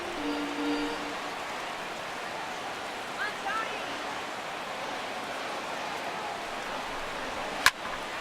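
Heavy rain pours steadily through an MLB 17 The Show baseball game between Boston and Cincinnati, a constant broad hiss under a commentator's voice, broken near the end by one sharp crack.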